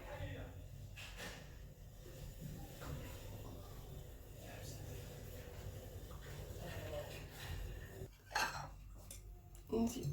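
A spoon stirs sifted cocoa into boiling sugar syrup in a pot, with scraping and soft clinks against the metal under steady talking and a few sharper knocks near the end.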